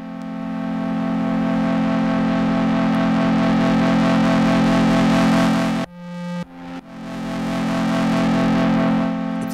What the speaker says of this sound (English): this will add kind of a distortion